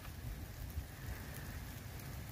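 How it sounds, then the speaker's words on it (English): Rain falls outside at night on a chilly residential street decorated for Christmas. It makes a soft, steady, even patter that is faint and continuous, with no voices. "And it's raining and it's chilly."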